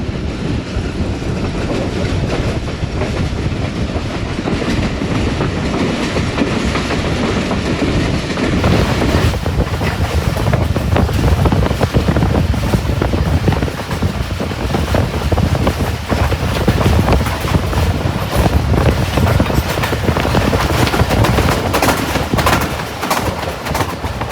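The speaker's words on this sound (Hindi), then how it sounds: "ट्रेन हमारी गुजरेगी 9 आर्चेस ब्रिज से" The Rehman Baba Express, running between Rawalpindi and Lalamusa, crosses the 9 Arches bridge with a loud, continuous rumble and rattle of wheels and carriages, heard up close throughout.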